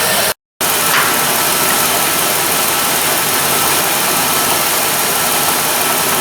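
A Jeep Liberty engine idling as it warms up, a loud steady mechanical drone with a ticking, ratchet-like clatter running throughout, close by and uninterrupted apart from one brief dropout near the start.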